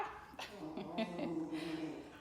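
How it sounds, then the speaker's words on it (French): A pet dog whimpers and yips with a rising, whining tone over about two seconds, fairly close and moderately loud indoors. "on entend mon chien"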